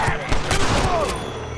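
A block of TNT blows up in a video game, a brief booming blast with a crackling tail, heard under excited voices.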